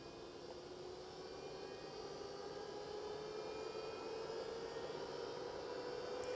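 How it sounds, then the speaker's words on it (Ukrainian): Cooling fan of a 60 amp LiFePO4 battery charger running with a steady, fairly faint whirring hum that holds an even tone throughout, with no talking. "Запустився чомусь кулір, хоча зарядний пристрій вимкнений і досить сильно шумить"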